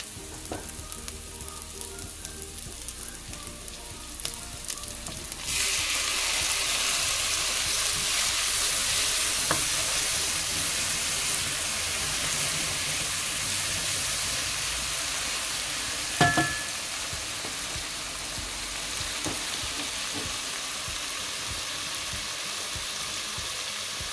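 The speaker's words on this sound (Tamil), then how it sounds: "பச்சை மிளகாயம் போட்டு வதக்கிட்டு தக்காளி பழத்தையும் போடுவோம்." Green chillies and tomatoes sauté in a hot pan for a Tamil-style crab curry, giving a steady, close sizzle that jumps louder after a few seconds and stays constant, with a few faint utensil clinks and no talking.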